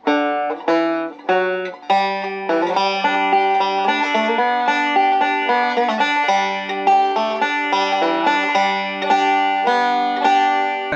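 A solo banjo plays Roll in My Sweet Baby's Arms as a beginner arrangement, with a steady stream of bright plucked rolling notes, clear and close, and no voices over it.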